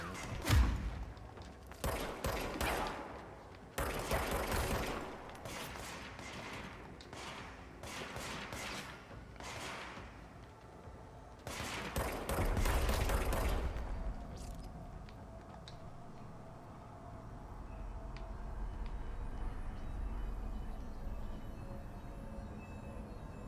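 Enemy gunfire in the Control video game, sharp clusters of loud shots in bursts during the first half, fading into a low rumbling background.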